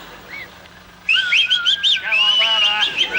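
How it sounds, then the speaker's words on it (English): Several men whistle together in a loud, rising and falling chorus of warbling notes, starting after a short quiet lead-in. "Let's hear a bit of whistling."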